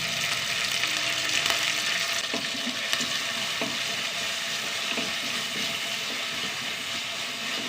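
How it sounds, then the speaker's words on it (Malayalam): Sliced small onions, a chili and curry leaves frying in hot oil, a steady dense sizzle throughout with occasional faint clinks of a stirring spoon against the pan. "ഉള്ളി നന്നായി മൂത്ത് വരണം"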